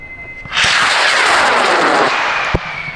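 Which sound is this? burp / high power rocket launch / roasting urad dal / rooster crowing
high power rocket launch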